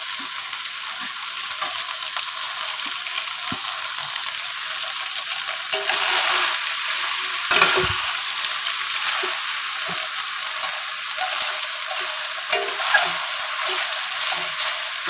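Chow mein stir-frying in a pan over a high gas flame, a loud steady sizzle and crackle with occasional clinks and stirring scrapes throughout.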